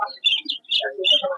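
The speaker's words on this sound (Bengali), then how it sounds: "এখানে অনেক ধরনের কবুতরই আছে" Short chirps and calls from birds at a pigeon and bird market, with some high tweets and lower coos in quick, broken bursts, fairly close.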